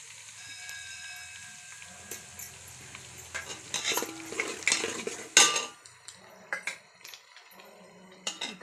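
Turmeric and ground chili go into hot oil with garlic in a pan, giving a soft sizzle that builds into sharper clinks of a metal spoon stirring and scraping against the cookware, close and fairly quiet with no talking.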